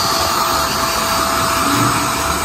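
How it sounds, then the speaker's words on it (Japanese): A hair dryer blasts loudly and continuously at close range, drying a man's long hair during a restyle into a short Korean-style cut, with a steady unbroken whir throughout. "もうバーって乾かしちゃう。 バーって乾かして前の一回動いて前の乾かして"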